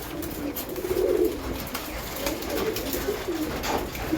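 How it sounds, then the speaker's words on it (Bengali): Male pigeons cooing close by in a loft, a steady stream of soft, low, throaty coos rising and falling throughout, with no talking. "এই যে আমার নর পায়রাগুলো"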